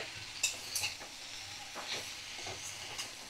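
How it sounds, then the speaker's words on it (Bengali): Thinly cut bottle gourd with prawns stir-fried over a low flame, a soft steady sizzle with a few faint scrapes and taps of a spatula, close but quiet. "ফ্লেমটাকে এবার একদম লো ফ্লেমে করে দিলাম, কারণ ভালো করে এবার কষিয়ে নিতে হবে"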